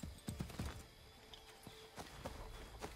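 Horse hooves clip-clopping in the Assassin's Creed 3 video game on Xbox 360, a horse carrying two riders, with a few quick clustered hoof knocks followed by sparser, quieter steps over a faint background hum.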